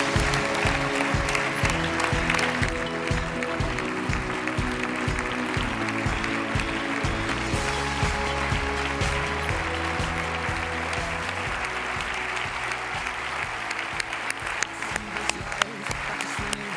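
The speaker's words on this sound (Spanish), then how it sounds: "yo pido un aplauso para el presidente autonómico del partido, Luis María Beamonte." A congress crowd at a regional Partido Popular gathering in Aragón applauds the party's regional president, sustained loud clapping with a musical bed underneath.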